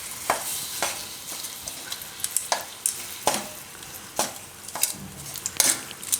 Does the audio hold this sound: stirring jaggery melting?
yes